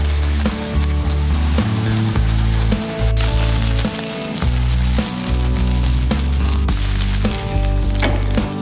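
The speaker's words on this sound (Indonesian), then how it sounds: "Tahap berikutnya, panggang semua terong yang telah kita potong tadi." Cut eggplant pieces grill with a loud sizzle and crackle, overlaid by rhythmic, music-like tonal pulses throughout, with no talking.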